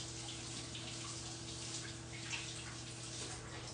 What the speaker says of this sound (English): I'm just gonna rinse my hand.